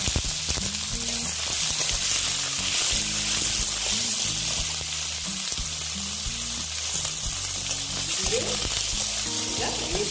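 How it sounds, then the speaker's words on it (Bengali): Onions fry in oil with a loud, continuous close sizzle while a low tonal hum pulses underneath, the hiss staying dense and steady throughout. "আমার পেঁয়াজটা প্রায় আধা ভাজা হয়ে গেছে।"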